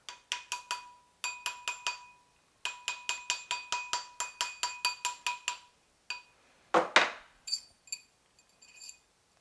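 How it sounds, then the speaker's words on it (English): Rawhide mallet strikes a metal ring seated on a ring bender, a long run of sharp, ringing metallic taps in quick bursts with short pauses, followed by a brief scraping rustle and a few lighter clinks. "you can actually kind of seat it like this shape, basically, by hitting it with a rawhide mallet"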